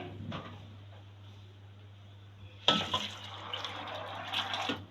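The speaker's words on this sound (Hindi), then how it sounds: "एक जग हमने पानी डाल दिया" Water pours from a jug into a cooking pot of soaked chickpeas, a sudden steady splashing stream that starts partway through after a quiet kitchen hum and carries on to the end.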